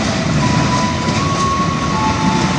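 Tawang Alun passenger train pulling into platform 2 at Kalisetail station, a steady loud rumble of wheels and cars rolling past with a faint high tonal whine running through it, no voices.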